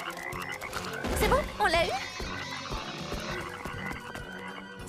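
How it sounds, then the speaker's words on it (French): Cartoon frog croaking in a French animated show: a couple of bright, warbling croaks rise over background music, with a voice speaking briefly afterward. "Grenouille."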